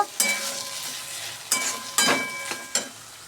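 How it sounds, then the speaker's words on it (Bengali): Taro leaf greens with a little sugar stirred in a hot pan, four or five sharp spatula scrapes over a soft sizzle, close and without talk. "চিনিটা দিয়ে একটু নেড়ে চেড়ে নামিয়ে নেব"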